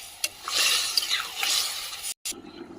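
Water poured into a cooking pot of mixed vegetables (papaya, eggplant) for a Bengali chorchori, a splashy liquid rush filling the pot for about two seconds, then a brief drop to silence and softer settling.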